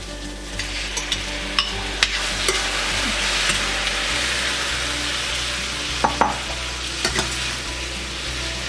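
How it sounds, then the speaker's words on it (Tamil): Prawns and shredded cabbage fry on high flame for shrimp fried rice noodles, a steady loud sizzle with occasional sharp clicks and scrapes of a spatula stirring the pan, no talking. "ஃப்ளேமை கொஞ்சம் ஹையில் வச்சு நம்ம ப்ரான்ஸை வணக்கிடலாம்"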